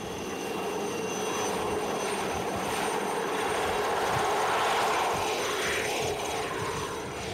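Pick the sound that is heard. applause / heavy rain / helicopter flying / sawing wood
helicopter flying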